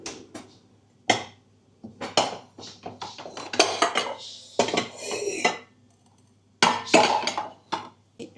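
A salad bowl is pulled out from among dishes, with loud close clatters and clinks of crockery and cutlery in several separate bursts broken by short quiet gaps, and no talk.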